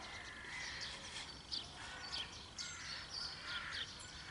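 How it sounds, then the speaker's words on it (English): Busy birds call on a spring morning, crow-like caws and chirps scattered over a steady outdoor hiss, moderately distant and fairly faint. "And the birds are just so busy."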